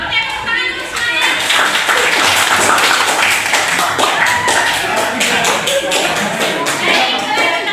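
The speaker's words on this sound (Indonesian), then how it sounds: "tepuk tangan untuk semuanya" Crowd of students applauding at a school student council (OSIS) event, dense steady clapping from many hands throughout, fairly loud and close, with a voice briefly audible under it.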